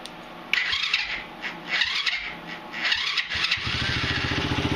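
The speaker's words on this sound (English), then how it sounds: "No more clicking or grinding, and it just fires right up." A Chinese quad ATV engine cranks and catches, then settles into a steady, close idle after a few uneven bursts, fairly loud with no one talking.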